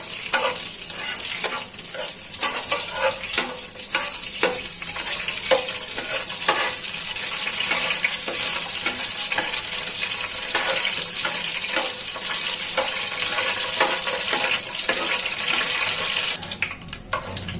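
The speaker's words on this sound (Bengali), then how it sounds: "আগে মরিচটাকে ভেজে নিব" Chillies sizzle and crackle steadily in hot oil in a pan until crisp, with frequent stirring scrapes and pops close by throughout.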